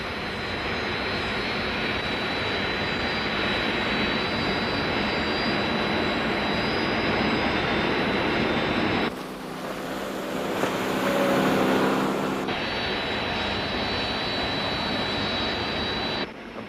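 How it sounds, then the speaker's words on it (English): Jet engines of search aircraft launched from a Thunderbirds marine rescue base roar steadily and loudly throughout, briefly swelling into a heavier, rumbling blast midway before settling back to the same continuous drone. "Search aircraft launched"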